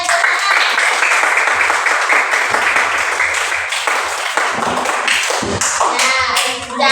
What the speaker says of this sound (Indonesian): Jadi, kasih tepuk tangan.